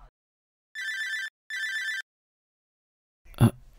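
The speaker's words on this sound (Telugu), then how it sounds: "నాకు ఫోన్ వస్తుంది" Telephone bell rings twice in short, even bursts in a quiet room, followed after a pause by a brief handling noise.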